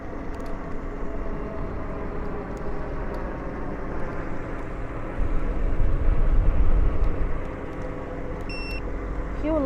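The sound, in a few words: airplanes flying overhead during night ride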